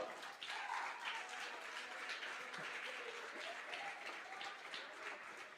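A church congregation applauds during a sermon, a continuous, distant roar of many hands clapping, steady and fairly soft, with no speech over it.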